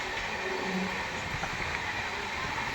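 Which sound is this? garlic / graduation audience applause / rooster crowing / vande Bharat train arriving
vande Bharat train arriving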